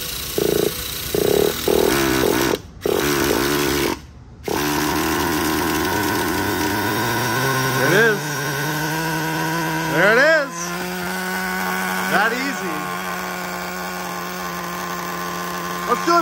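A Traxxas Slash nitro RC car's small glow engine is pulled over and then catches from a cold start. It settles into a loud, high buzzing idle with rising revving swells, close up.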